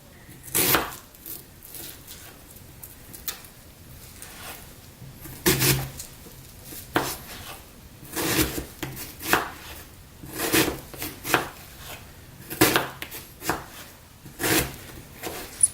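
Onions chopped with a knife on a cutting board for Trinidadian pastelle filling: irregular, crisp knocks in loose bursts, close and fairly steady across the stretch.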